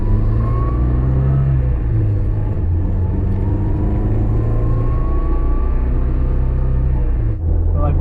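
A 1960s Volvo P1800 cruising, with a loud, steady low engine drone and road rumble inside the cabin and a pitch that shifts slightly, while voices talk faintly over it.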